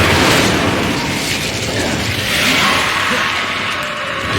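A fire spell cast in the video game Hogwarts Legacy makes a loud, sustained roaring whoosh of flame with a crackling burst, continuous across the moment with no talk over it.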